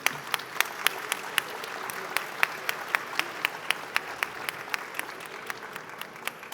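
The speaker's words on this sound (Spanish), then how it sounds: "fuerte el aplauso para el gobernador, por supuesto." An audience at a public policy forum applauds a governor with crisp, steady, almost rhythmic clapping that holds throughout, with faint background voices.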